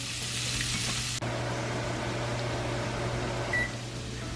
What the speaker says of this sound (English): Then just go ahead and stir them around